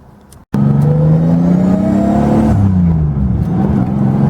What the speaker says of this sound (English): we're gonna go for a little cruise in this 2JZ S13